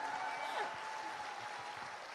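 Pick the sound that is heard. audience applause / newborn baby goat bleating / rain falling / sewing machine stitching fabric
audience applause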